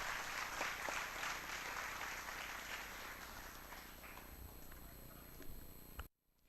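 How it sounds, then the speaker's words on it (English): An audience at an inauguration ceremony claps in a sustained burst of applause that fades gradually before cutting off abruptly near the end. "Can we have a huge round of applause for ma'am?"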